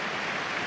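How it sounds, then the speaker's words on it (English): A stadium crowd's steady applause during the 2015 All-Ireland Gaelic football semi-final between Dublin and Mayo, given in memory of former Mayo minor player Darragh Doherty; a dense, even wash of clapping throughout this short moment. "moments and minutes applause in memory of the former Mayo minor star Darragh Doherty from Kilmaine"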